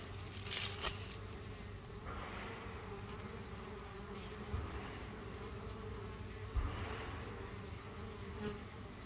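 Honey bee colony humming steadily at wooden hives with vented sides, a close, continuous drone of many wings with a few louder passes of single bees.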